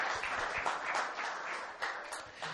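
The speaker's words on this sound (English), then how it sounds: "Can we one more round of applause for Mark?" Church congregation applauding during a Sunday service, dense continuous clapping throughout, fairly close and even.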